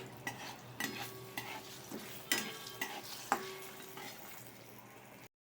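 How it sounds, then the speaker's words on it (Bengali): Potatoes for aloo dum fry in a pan with a pinch of turmeric, giving a steady close sizzle broken by repeated spatula scrapes and light metallic clinks before it cuts to silence. "আলুর দমের জন্য আগে আলুটাকে ভেজে নিচ্ছি"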